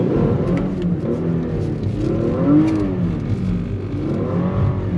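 A car drifting on a test track, its engine droning and revving with rising and falling pitch throughout, heard close and loud with no talking.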